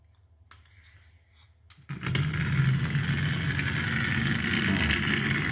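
Small 3D printed BeetleBot robot on intermediate-size wheels starts up after a click, then a steady, close whirring motor and gear drone with rolling wheel noise runs continuously.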